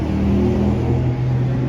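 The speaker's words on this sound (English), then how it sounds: "See all these cars going up and down my road here" Steady engine rumble from cars passing along the road outside a shop, a continuous low drone at moderate loudness with no clear gaps between vehicles.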